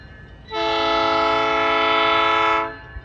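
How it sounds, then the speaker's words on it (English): An arriving passenger train near North Bend and Snoqualmie sounds one long, loud horn chord blast for about two seconds, rising abruptly and fading out over a low rumble. "Here comes our train."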